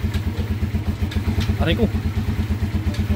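A small Pinoy 155 or 125 motorcycle with a converted 5-speed transmission idles with a steady rhythmic thump while a gear is shifted into first, a short gear clunk midway, with someone talking over it.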